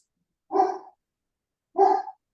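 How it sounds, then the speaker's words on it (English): Two sharp barks from a dog, spaced about a second apart, moderately close and clear against an otherwise quiet background during an online meeting. "I do hear a dog."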